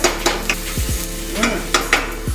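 Garlic frying in a pan, a steady close sizzle broken by several short metallic scrapes and taps as it is stirred.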